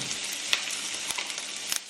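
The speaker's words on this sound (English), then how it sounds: "You're gonna hear sizzling." Food sizzles loudly and steadily in a hot frying pan at home, a dense crackling hiss with a few sharper pops and clicks, heard close up with no voice over it.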